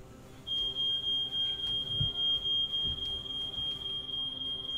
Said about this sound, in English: that's the alarm bells for Loango's war exhaustion